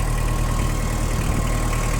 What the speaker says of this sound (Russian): двигатель, я думаю, вы слышите, работает также прекрасно